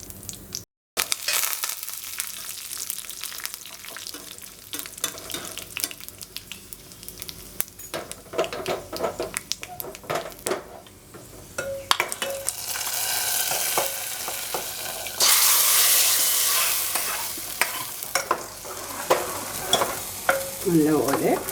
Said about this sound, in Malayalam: കടുകും കുറച്ച് ഉലുവായും ആദ്യം ഇടുക.